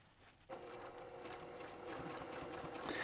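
A sewing machine starts up after a brief pause and runs steadily, stitching fabric and Insul Bright insulating lining for a hot iron travel cover, with a close, continuous mechanical whir and no talking.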